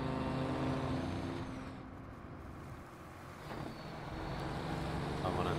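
A '69 Tilt-Cab Special truck from the game SnowRunner drives with a steady, loud engine rumble that dips briefly and swells again, with no talk over it.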